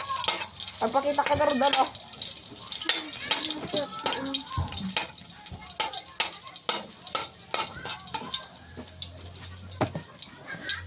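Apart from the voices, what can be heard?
sautéing garlic in a pan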